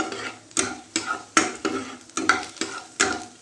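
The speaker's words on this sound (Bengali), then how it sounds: "এই যে রসুনগুলো দিয়ে দিয়েছি, একটু রোস্ট হবে রসুনগুলো" Garlic roasting in a pan for lemon chicken soup, with steady sizzle broken by about seven rhythmic scraping stirs, close and moderately loud, no voices.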